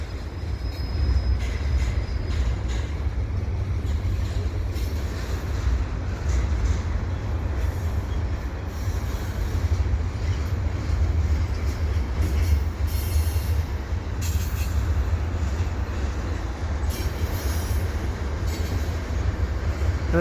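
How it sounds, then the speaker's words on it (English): A commuter train rolls slowly past at Dorval, with a steady low rumble of wheels and cars, occasional faint squeals and clicks, heard close and continuous throughout with no talk. "Oh, here's the commuter train. Okay. It's not stopping. It's slow,"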